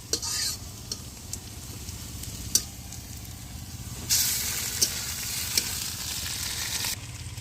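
Fish sizzles in a little oil in a home kitchen pan while a utensil stirs it, giving a steady frying crackle with scattered scraping clinks and brief louder bursts of sizzle.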